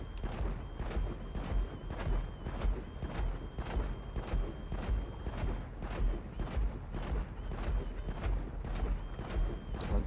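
Steady, evenly spaced heavy cannon-like booms as gunfire is aimed at an Avenger aircraft in GTA 5 online, a rhythmic thumping volley repeating about twice per second under a constant low rumble.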